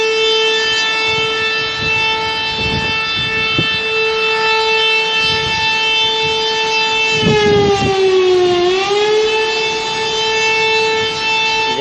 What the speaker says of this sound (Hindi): मंगला डैम का स्पेलवे खुलने से पहले सायरन की वीडियो एलीट न्यूज को मौसूल हो गई है